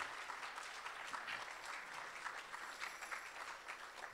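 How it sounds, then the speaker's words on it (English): Faint, steady applause from a performing-arts audience for dancers and singers at an American Indian community performance in Chicago, a continuous wash of clapping with no talk. "Please round of applause for our dancers and also for our singers."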